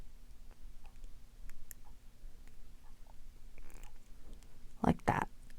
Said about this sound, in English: So I just take like my little snips and just take off a little piece.